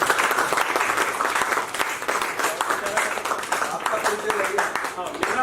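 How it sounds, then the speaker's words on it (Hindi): A theatre audience gives loud, sustained applause after a play, dense clapping filling the whole stretch with no pause. "अगर अच्छा लगा हो तो एक बार जोरदार ताली खुशी हो जाए"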